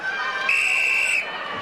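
At a kickboxing bout between Baris Nezif and Alexie Perkarchyk, the ring bell ending the round sounds as a single steady tone lasting under a second, clear over a murmuring arena.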